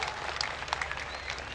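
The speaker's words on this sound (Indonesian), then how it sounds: "Saya minta tepuk tangan dulu untuk panitia penyelenggara" Audience applause at a large Islamic religious gathering in Riau, a dense burst of clapping from a crowd, fairly close and steady throughout the short moment.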